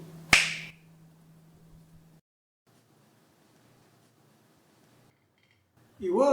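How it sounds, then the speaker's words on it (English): A single crisp finger snap sounds near and loud at the start, followed by near silence with faint low murmur. A voice comes in briefly at the very end. "Wouldn't it be great if you can just snap your fingers and transport yourself elsewhere?"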